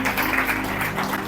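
A church congregation claps loudly and steadily during a sermon, a dense, continuous wash of applause with no voices standing out.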